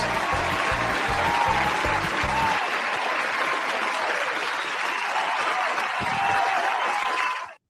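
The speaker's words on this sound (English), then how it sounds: "give Stan a round of applause" Studio audience applauding at a comedy show, a dense, steady wash of clapping that starts with a low rhythmic beat in the first seconds and holds loud and even before cutting off abruptly.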